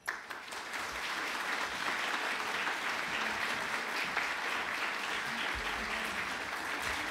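A live audience at a book event welcomes author Lisa See with sustained, full applause from many hands clapping together, holding steady for several seconds after one sharp opening clap.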